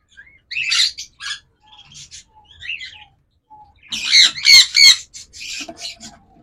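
Pair of cockatiels in a nest box with eggs, giving several close, loud squawks and chirps in short bursts, with a dense cluster of harsh calls toward the end.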